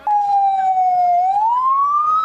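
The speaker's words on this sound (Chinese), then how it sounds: "消防车警示声音一直响" A fire engine siren wails at a residential house fire in Neihu District, Taipei, a loud, close tone that sinks slowly and then climbs again, alone with no voices.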